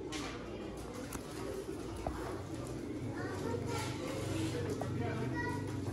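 Pigeons from a breeding setup of fancy pigeon pairs coo with low, soft, throaty rumbles that continue steadily over a busy background, with a voice talking nearby.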